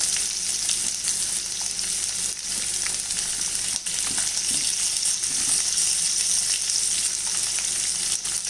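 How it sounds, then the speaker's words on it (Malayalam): Sliced onion for poha upma frying in a pan, giving a continuous close hissing sizzle with faint stirring clatter throughout, steady and unbroken, no voices. "ഇനി നമുക്ക് അരിഞ്ഞു വെച്ചിരിക്കുന്ന ഉള്ളി ഇട്ട് കൊടുക്കാം."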